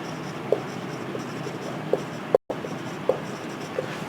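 A pen writes on paper during an accounting lecture, giving a continuous close scratching with a few sharper taps of pen strokes, a brief dropout in the middle, and no voice over it.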